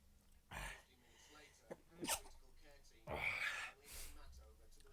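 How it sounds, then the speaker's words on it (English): Someone lets out a big, sharp sneeze, preceded by breaths and followed by sniffing and other breathy noises, close and fairly loud. "That was a big sneeze"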